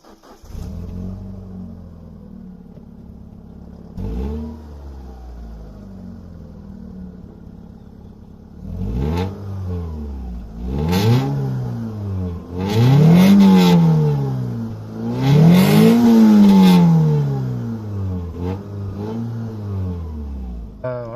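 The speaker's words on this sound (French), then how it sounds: "je vais vous faire un petit démarrage pour faire entendre le bruit" An Alfa Romeo engine starts with a few cranks, then idles and revs up in several rising and falling bursts, growing louder toward the end, heard up close with no talking.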